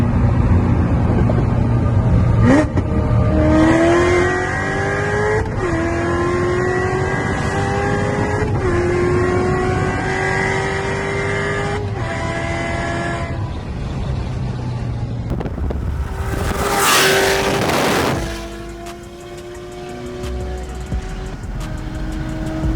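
A Corvette Z06 and a Mercedes accelerate hard at high speed, engines climbing through repeated gear shifts with a close, loud roar and heavy wind noise, then a brief rushing blast as a car passes.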